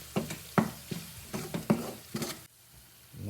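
Sazon seasoning and ham being stirred into a pot for Puerto Rican rice and beans, with a series of close, soft scraping strokes over a light sizzle. The stirring stops near the end.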